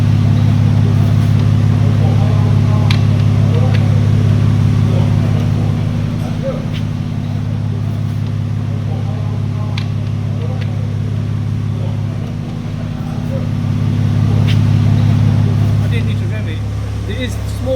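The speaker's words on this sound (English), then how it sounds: "obviously engine is running on used motor oil" A Mercedes diesel engine idles steadily on used motor oil at a car test station, a loud, constant low rumble holding throughout, with faint clicks and people talking in the background.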